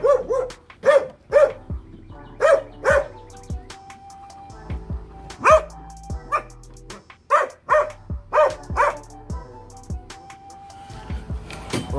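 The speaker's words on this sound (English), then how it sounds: "Wonder what kind of dog is it?" A dog at an event rental site, called pretty by onlookers, barks in sharp bursts of two and three with a few short yips and gaps between them, close and fairly loud with no talking.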